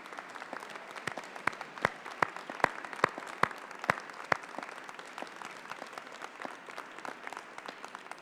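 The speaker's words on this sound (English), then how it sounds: "turn to face your friends, family, and supporters and applaud them" Graduation ceremony audience in Peterborough applauding, heard as sparse, fairly distant claps in a large hall, with a few sharp individual claps standing out over a quiet crowd.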